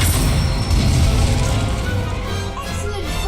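A fire spell is cast in a Harry Potter video game, giving a loud burst of crackling, whooshing flame and impact noise that fades into a roaring rumble.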